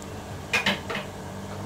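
Chopped medium tomatoes tipped into a pan of softened onions and stirred, a couple of quick metallic spoon-and-pan clanks followed by a softer scrape, fairly quiet.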